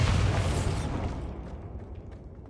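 Bombarda spell explosion in Hogwarts Legacy, a single loud, close blast that begins at full force and then fades with a rumbling, crumbling decay over about two seconds.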